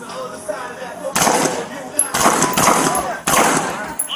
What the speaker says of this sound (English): Shots fired from the house.